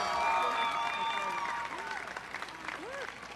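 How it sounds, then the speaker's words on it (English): An audience at a university freshman convocation applauds, a dense wash of clapping that starts loud and gradually thins out, with a voice speaking faintly over it. "Let's give Barbara another round of applause and say thank you for your provocative remarks."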